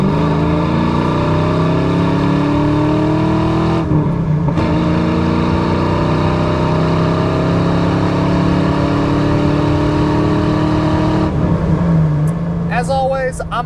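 A one-owner 1993 Ford Mustang GT 5.0 with a five-speed manual and Flowmaster exhaust, driven hard with a loud, close engine rising through the revs, dipping briefly at two gear changes, with a voice at times.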